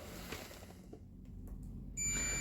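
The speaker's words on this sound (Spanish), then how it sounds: "suena el multímetro" A sharp, steady electronic multimeter beep in continuity or diode mode switches on near the end and holds, following quiet background hiss and a few faint clicks.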